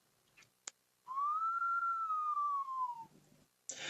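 A person whistles one long, smooth, sustained note that rises slightly and then falls, close and clear, with a couple of small clicks around it.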